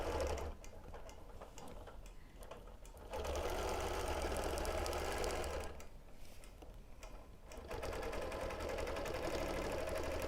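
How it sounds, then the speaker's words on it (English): A sewing machine doing free-motion ruler quilting, stitching in the ditch around a star block, runs steadily in three long bursts with two brief slowdowns between them, close and alone. "while I'm stitching around the ditch of this star"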